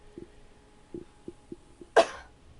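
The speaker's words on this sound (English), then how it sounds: "Cough test." A single sharp cough bursts out after a few soft clicks and breaths, close and fairly loud against a quiet background.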